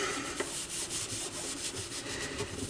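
Grime is rubbed off a Technics SL 220 turntable by hand, steady close scrubbing strokes in a quick repeated rhythm, fairly quiet.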